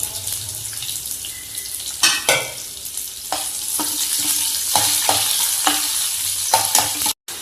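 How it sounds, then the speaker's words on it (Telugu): Onions, dried red chilies, mustard seeds and cumin sizzle steadily in hot oil in a pan, with a continuous frying hiss broken by repeated stirring scrapes and a few louder clatters close by. "ఆయిల్ వేడెక్కిందండి. ఆవాలు, జీలకర్ర వేసుకోవాలి. ఇప్పుడు ఆనియన్,"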